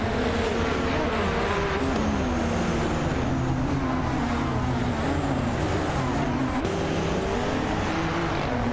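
Race car engines, led by a 2015 Porsche 919 Hybrid LMP1 car, roar steadily in a racing video game, a constant dense drone with wavering pitch and no breaks.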